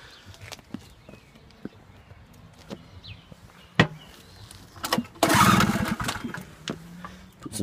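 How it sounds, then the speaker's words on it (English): A generic Chinese two-stroke generator gets a few faint clicks and pulls in near silence, then the engine catches with a loud, rough burst, dips, and starts revving up again. "So you can see it's a good little two-stroke. Sounds like a two-stroke."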